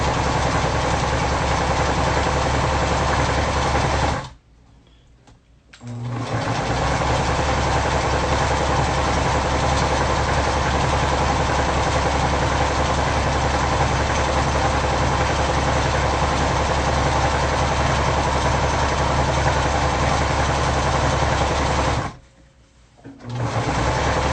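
A Singer sewing machine runs steadily, stitching along the edge of a custom guitar strap with a backstitch, its dense mechanical whir loud and close and pausing briefly twice.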